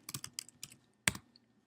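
Keys clatter on a computer keyboard in a short burst of typing, several quick taps followed by a pause and one sharper keystroke, close and clear with no voices.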